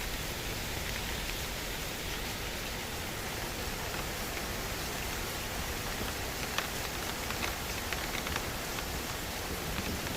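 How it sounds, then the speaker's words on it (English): Hail and heavy rain pour down in a dense, steady roar during a South Carolina storm, continuous and broadband with scattered sharper impacts, no voices. "Hailstorm."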